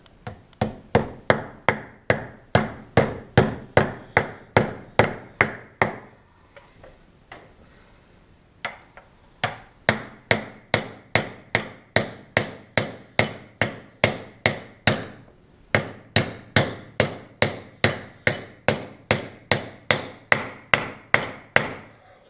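A hammer strikes a socket to drive a front wheel bearing into a Bombardier Can-Am DS650 hub, sharp metallic taps in steady rapid series, loud and close, with two brief pauses between runs.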